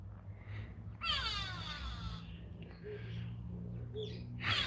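A grey go-away-bird, the kweevoël, gives harsh drawn-out calls outdoors, a loud burst near the start followed by fainter repeated notes over a low steady background hum.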